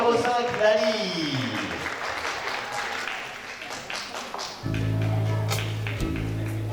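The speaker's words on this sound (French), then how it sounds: "On peut l'applaudir bien fort!" Audience applause for a beauty pageant contestant rises under a presenter's voice and music, then a loud bass-heavy musical beat cuts in partway through.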